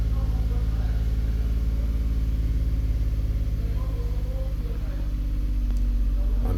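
A 2010–2016 Nissan Maxima engine runs with a steady, close low rumble, easing briefly before picking back up as gas is given near the end.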